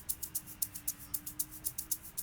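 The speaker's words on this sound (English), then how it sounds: "that's how the shaker loops sounds like" Shaker loop from the Cyber Sound 114 kit in an Afrobeats production, a steady rhythmic pattern of crisp, bright shaken hits repeating about every quarter second, quiet and alone with a faint low hum beneath.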